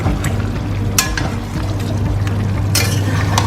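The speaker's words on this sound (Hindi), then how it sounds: "अब देखिए ये चिकन हमारा भून रहा है।" Lemon chicken fries in a pan with a low steady sizzle, broken by a few sharp scrapes of a spoon stirring and moving the pieces around.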